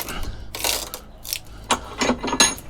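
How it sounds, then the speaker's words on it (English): A chisel chopping into a plastic e-waste casing, giving a short run of sharp, close clicks and cracking knocks at uneven intervals, with no talk. "All right, trusty old chisel."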